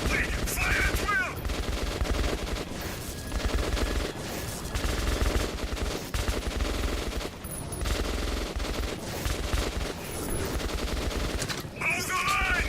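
Dense, continuous gunfire in the video game Metro 2033 Redux, loud overlapping shots and bursts filling the whole stretch with shouted voices mixed in.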